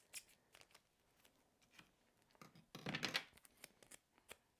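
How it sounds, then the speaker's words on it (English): Scissors make quick, faint snips through card paper up close, a short run of crisp cuts with a denser burst in the middle, with no talk over them. "I'm going to do a quick cut here."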